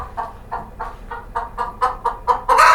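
Chickens in a coop cluck in a close, steady run of about ten short, evenly spaced clucks that grow slightly louder and end in a sharper, fuller squawk, with no talking.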